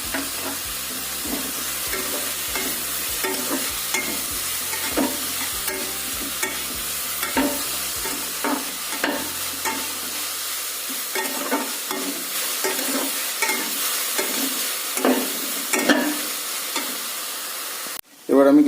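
Tomatoes, soaked dried red chillies and cashews fry in a pan with salt for a home-style butter chicken base, giving a continuous hiss with frequent spoon scrapes and taps as they are stirred, and a sharp clatter at the end.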